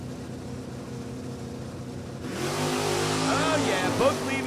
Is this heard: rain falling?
no